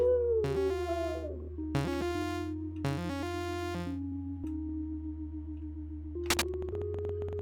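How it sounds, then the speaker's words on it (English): Dog barks and a drawn-out howl in a horror video game set in an apartment building, coming in three short bursts over a steady low background hum, fairly faint. "Is that a dog?"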